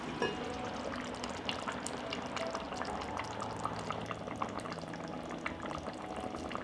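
Potato paprikash stew of potatoes and water simmers in a covered pot, a steady close bubbling and gurgling with small pops throughout.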